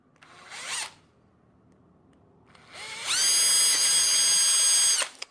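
A power tool briefly whirs, pauses, then runs at a high, steady whine for about two seconds while punching through a homemade metal lock ring, close and loud with no talking.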